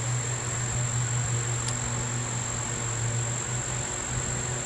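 Honey bees hum steadily on hive frames during an August inspection of hive #1, a continuous, even drone close by with no break or talk.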